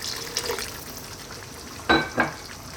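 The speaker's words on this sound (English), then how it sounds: "Just going to add a little bit of water in there." Water poured into a pot of goat curry over the heat gives a brief sizzling hiss with two sharp bursts of splashing, heard close and fairly quiet without talk.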